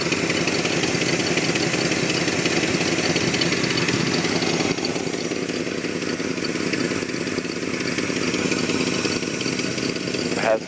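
A 1963 Ford Falcon with dual exhaust idles steadily and evenly, a continuous close engine hum holding the same level throughout with no misses.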